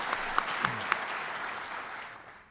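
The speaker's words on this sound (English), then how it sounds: "you can applaud" Audience applause at a state governor's announcement event for a new advanced manufacturing facility, rising from scattered sharp claps into steady, moderately loud clapping that tapers off toward the end, with no talk.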